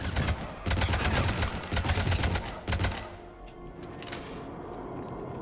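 Rapid bursts of automatic gunfire crackle loudly in a Mass Effect 3 firefight, several dense volleys in succession before easing into a quieter rumble of distant shots.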